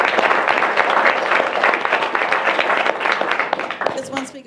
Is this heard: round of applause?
yes